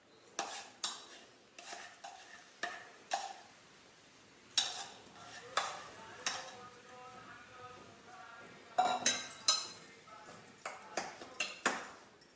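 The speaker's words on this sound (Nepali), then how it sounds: "यो आलुलाई मिचेर अघि किनेको मकैमा मिसाउने छु" Boiled potato is mashed and mixed with corn by hand in a bowl, giving soft irregular clinks, scrapes and squelches at close range, with quiet intermittent talk.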